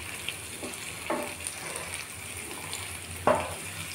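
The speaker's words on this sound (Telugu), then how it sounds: "కాసేపు వేసి వేగనివ్వాలి" Drumstick pieces fry in oil with peanuts, dried red chillies and garlic, giving a soft steady sizzle broken by a few sharp spatters and stirring scrapes, close and fairly quiet.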